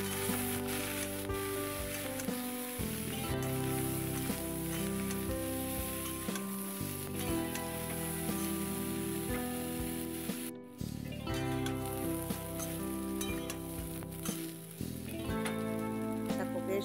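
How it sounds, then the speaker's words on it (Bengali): Cauliflower florets with a little turmeric fry in a pan, browning with a constant hissing sizzle. Loud tonal music plays over it throughout, with one brief dropout near the middle. "ফুলকপিটা একটু লাল লাল করে ভেজে নেব"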